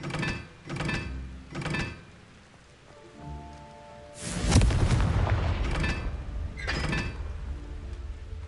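Explosive blasts of the Confringo spell in the Hogwarts Legacy video game: three quick, sharp bursts, then a big roaring blast that rumbles for about a second, followed by two more bursts.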